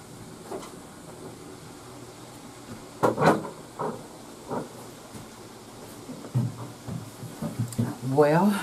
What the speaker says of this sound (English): let me close my patio door.